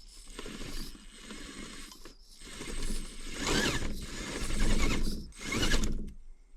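The drivetrain of a heavy SCX24 RC crawler whirs and grinds in surging bursts, gears straining under load with ratcheting clicks, close and fairly loud.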